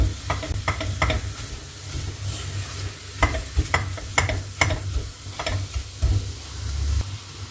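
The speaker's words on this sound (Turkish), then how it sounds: "Gördüğünüz gibi kavuruyorum." Flour is roasted in a pan over low heat with steady stirring, and a soft sizzle runs under a string of quick scraping strokes of the spoon against the pan, with no voices.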